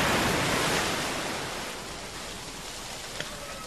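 Ocean waves wash onto a tropical beach as a steady broad hiss of surf that slowly fades, with no voices.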